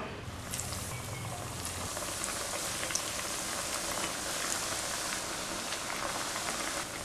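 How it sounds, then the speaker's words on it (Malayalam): Chicken cutlets deep-fry in hot oil with a steady, close, rain-like hiss and bubbling, full of fine crackles and pops, running unbroken and alone throughout. "കട്ട്ലറ്റ് ഫ്രൈ ചെയ്യാനുള്ള എണ്ണ ഇവിടെ ചൂടായി നമുക്കിനി ഓരോ തയ്യാറാക്കി വെച്ചിരിക്കുന്ന ഓരോ കട്ട്ലറ്റും അതിനകത്തൊക്കെ ഇട്ട് ഫ്രൈ ചെയ്തെടുക്കാം"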